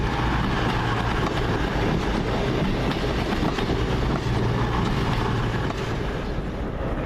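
A train pulls into Bristol Temple Meads station on the service from Manchester Piccadilly, a steady, loud rumble of wheels and engine with faint clickety-clack running throughout, no voices present.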